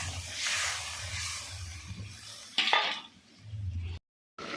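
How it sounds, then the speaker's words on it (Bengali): A lid is set down on a cooking pot of braised cauliflower and potato with water just added, for a bhetki fish curry. It makes one sharp metallic clink after a steady low kitchen hum, and it is fairly close. "ঢেলে দিয়ে এবার ঢাকনা একটা চাপা দিয়ে দিচ্ছি"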